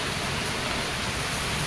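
Steady rain falls outdoors on a hiking spot, a dense, even hiss of drops with no break, fairly loud and close, with no voices.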